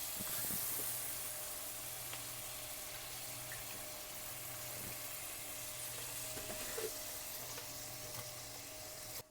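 Onions cooking in a pan, a faint, steady sizzle under a soft background hiss, with occasional light clicks and no talking.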